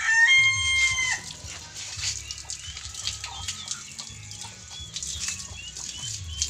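Hens in crates on a farm cluck and chatter together, with a rooster crowing at the start, the calls overlapping near and clear against low background rumble.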